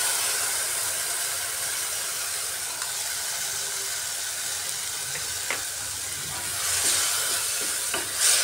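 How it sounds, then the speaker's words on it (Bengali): Ground spices mixed in water sizzling as they hit a hot pan for an egg kosa dish, a steady hissing fry with occasional stirring clinks and a brief louder steam flare near the end. "সেই গুঁড়া মশলাগুলো আগে আমি জলে গুলে রেখেছিলাম, এগুলো দিয়ে দিচ্ছি।"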